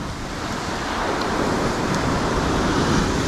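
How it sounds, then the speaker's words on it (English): Heavy rain pouring outdoors near a cave campsite, a dense, steady roaring hiss, loud and close, with no voices. "Let's go fishing in the rain."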